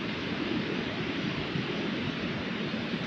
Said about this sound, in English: The sound of the waves is just awesome.